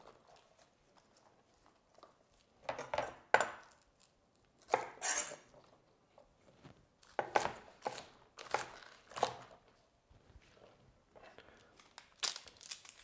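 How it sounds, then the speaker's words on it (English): Spring onion is chopped into big pieces on a board, sharp knife thuds landing in short irregular bursts separated by pauses, close and crisp, with no talk. "Just cut it into quite big pieces."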